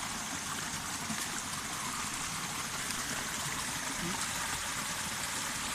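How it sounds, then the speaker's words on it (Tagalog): Steady rushing water fills the clip with a continuous broad hiss, a fast stream close by in Barangay Malusak, Atimonan, Quezon, Philippines, with no other sounds standing out. "Pero makikinig mo yung nagaslas ng tubig"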